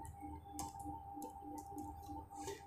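Faint, quick clicks of a computer keyboard as a customer ID is entered for net banking, irregular light taps over a low steady hum.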